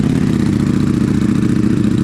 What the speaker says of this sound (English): It's not gonna hurt the bike by just idling it with not the proper amount of oil.